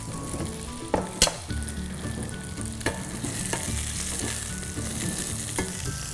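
Green cabbage being stir-fried and tossed in a wok over a high flame, Cantonese-style: a loud, steady sizzle with sharp clattering tosses near the start and a few more scattered through.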